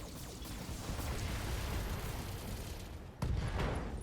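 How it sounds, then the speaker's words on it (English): Mech machine guns firing in Thorium Mercs, a dense, continuous roaring barrage with a sharp jump in loudness near the end, no voices over it. "So those machine guns that are doing a lot of the damage"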